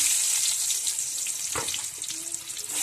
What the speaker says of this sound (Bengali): তেলটার মধ্যেই বেগুন কটা ভেজে নেবো